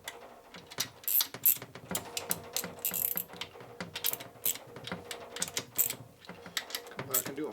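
Torque wrench ratcheting on the bolts of a 1947 Harley-Davidson EL knucklehead 74ci motor during a rebuild, quick irregular clicking bursts close by with faint talk in the background.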